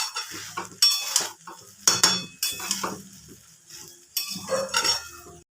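A spoon stirs pulao in a pot, giving repeated scraping and clinking strokes in short bursts separated by brief pauses, close and fairly loud.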